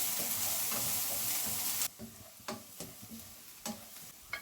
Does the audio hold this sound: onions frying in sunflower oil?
yes